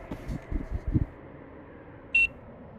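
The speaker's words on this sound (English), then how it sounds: "press down until you hear a beep" A box in Hollow Knight: Silksong gives a single short, bright electronic beep, clear and alone, after a few soft low thuds.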